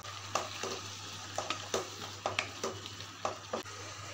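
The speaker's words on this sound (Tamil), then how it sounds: "அது நறுக்கி வச்ச கத்திரிக்காயையும் நம்ம இதில் சேர்த்து வதக்கிக்கலாம்." Chopped brinjal being sautéed in a pan with masala paste, giving repeated sharp clinks and scrapes of a stirring spoon over a steady sizzle, heard close and with no speech.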